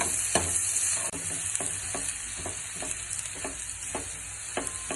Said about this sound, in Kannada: ಒಂದು 5 ನಿಮಿಷ ಫ್ರೈ ಮಾಡಿದ್ರೆ ಸಾಕು.